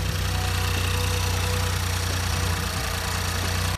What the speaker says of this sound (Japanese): こんな感じで結構3気筒エンジンなのでガラガラと音が大きい方だと思います。